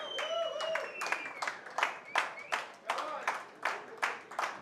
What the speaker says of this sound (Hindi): थोड़ी अच्छी वाली तालियां बजाइए